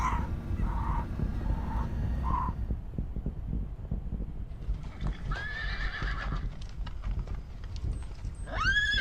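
Aggressive horse being trained, neighing and whinnying in several loud, wavering calls, with hooves clip-clopping and thudding underneath and a final shrill whinny close by.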